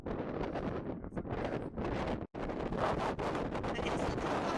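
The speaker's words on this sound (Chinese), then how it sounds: "这风好大" Strong wind buffets the microphone at Torres del Paine National Park in Chile, a continuous loud roaring rush with brief gusty swells and one sudden momentary drop.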